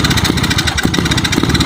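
A motorcycle engine running close by, a loud steady rhythmic chugging idle that pulses evenly throughout without any talk.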